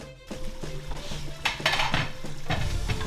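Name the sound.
chopped garden eggs sizzling in heated oil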